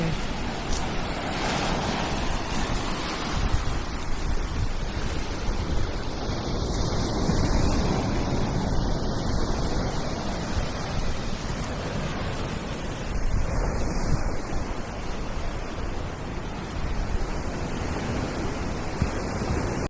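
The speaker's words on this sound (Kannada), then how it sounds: "ಆದರೂ ಅಲೆಗಳ ಶಬ್ದ" Sea waves wash onto a beach in a continuous broad roar, steady and fairly loud throughout with wind buffeting the microphone and no talking.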